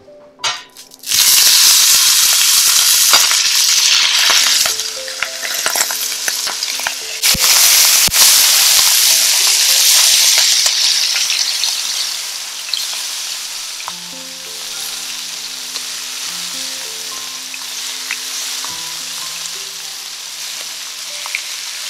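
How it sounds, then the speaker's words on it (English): Beef steak hits about four tablespoons of hot oil in a pot for a stir fry and bursts into a loud, sizzling hiss. The frying roars strongly for several seconds, then gradually settles into a softer sizzle while faint tonal sounds play underneath. "Now we'll add the steak to the pot."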